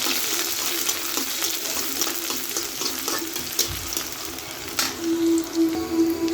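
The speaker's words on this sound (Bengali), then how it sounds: "এখন আমি চুলাতে কিছু পেঁয়াজ কুচি ছেড়ে দেব পেঁয়াজ কুচিগুলো ভালো করে নেড়ে হালকা কালার করে দেবো" Chopped onions hitting hot oil in a pan on the stove, a loud continuous sizzle with stirring scrapes and a brief clatter near the end.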